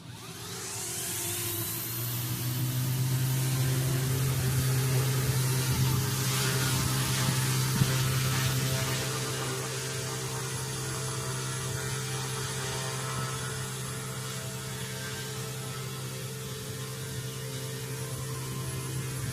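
A Hughes 300 model helicopter kit flies indoors in a living room, its steady motor and rotor hum drone continuously at moderate level, swelling slightly in the first half before settling into a constant whir.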